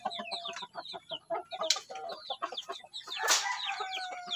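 Shamo and Asil chickens cluck and chatter nearby in a rapid, uneven series of short calls, with a brief burst of wing flapping midway and another rustling flurry later.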